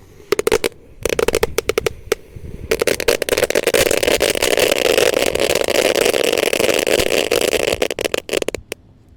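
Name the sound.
firecrackers exploding in a ground hole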